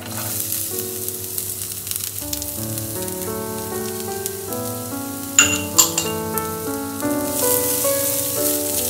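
Garlic browns in a pan with a steady sizzling hiss, partly masked by background music playing over it, with a couple of sharper clinks midway.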